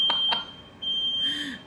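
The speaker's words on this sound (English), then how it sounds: "never mind the fire alarm, nothing's gone wrong." Smoke alarm set off by cooking smoke in a nearby room gives two short, sharp electronic beeps early on, then a longer harsh alarm tone toward the end, with a steady high whine throughout.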